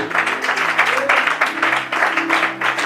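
A church congregation breaks into loud, dense applause and acclaim, steady clapping filling the space up close for a few seconds.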